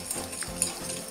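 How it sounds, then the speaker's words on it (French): Eggs and sugar whisked together in a bowl for a lemon cake batter, a quick steady stirring and scraping at close range with light clinks, no talking. "Et on va venir fouetter jusqu'à obtenir un mélange blanc."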